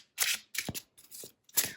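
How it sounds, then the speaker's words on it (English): Flowers of the Night Oracle cards are shuffled by hand in quick close bursts of riffling and sliding, about five short rustles with brief silences between. "it does begin with shuffling"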